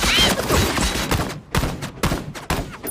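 Sniper gunfire in an animated circus-themed show, a rapid series of sharp, loud shots cracking close by in quick succession, with brief gaps between bursts.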